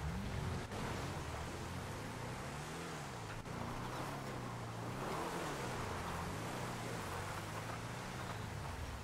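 A car engine drones steadily in a video game island battle, its pitch rising and falling in waves as the vehicle drives, loud and continuous with no speech over it.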